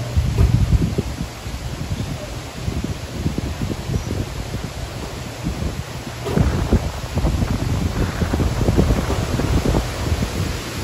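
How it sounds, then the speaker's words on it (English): Wind gusting across a lake on a blustery day, a continuous low roar and buffeting rumble with surging gusts, loud against the microphone, no talking. "It's a little windy on the lake today."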